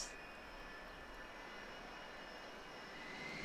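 An aircraft in the airport management game SimAirport rumbles on the runway with a faint, steady jet-engine whine and hiss that holds evenly through the short stretch, with no voices.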